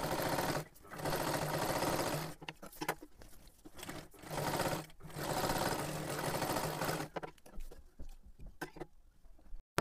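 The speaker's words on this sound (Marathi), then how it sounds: "इथे पूर्ण शिलाई मारून घ्यायची कडेपर्यंत, आणि इथे मध्यभागी एक मारा।" A sewing machine stitches the bottom hem of a salwar in loud, steady runs, pausing briefly several times between bursts and thinning into shorter stutters near the end.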